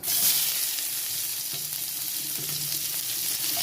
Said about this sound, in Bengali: পেঁয়াজ কুচিটা দেওয়ার পরে ভালো করে লাল করে ভাজতে হবে